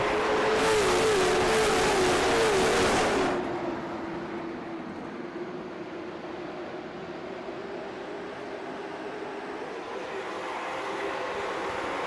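Late model stock cars race at North Wilkesboro Speedway, a loud pack roaring close by for about three seconds before fading into a steady, distant engine drone that rises slightly toward the end.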